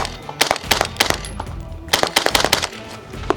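An AR-57 rifle firing pistol-caliber rounds at a target, a long run of sharp, fairly quick shots in two bursts with short pauses, loud and close.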